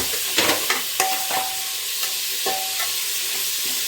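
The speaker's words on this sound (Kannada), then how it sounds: "ಮೆಂತ್ಯ ಸೊಪ್ಪು ಮತ್ತು ಹಸಿ ಬಟಾಣಿ ಹಾಕ್ಬಿಟ್ಟು ಚೆನ್ನಾಗಿ ಫ್ರೈ ಮಾಡಬೇಕು" Onions, fenugreek leaves and green peas fry for tomato bath, a constant hiss with sharp clicks and scrapes from a stirring spoon against the pan, fairly close and loud.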